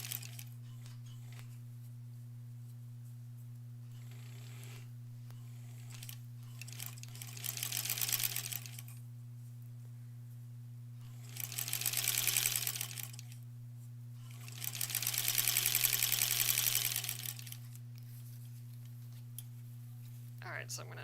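A sewing machine stitches quilt border pieces for a granny squares quilt in three separate whirring runs, each a few seconds long, with pauses between them over a steady low electrical hum.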